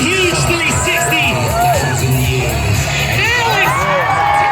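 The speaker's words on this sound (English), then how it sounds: "Big round of applause to Rob and Alex." Crowd at a BMX stunt show at a Long Island fair cheering, whooping and shouting continuously with children's voices, loud and close with a busy roar of excitement throughout.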